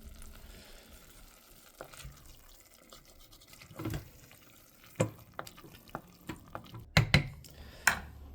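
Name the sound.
French onion soup bubbling in a crockpot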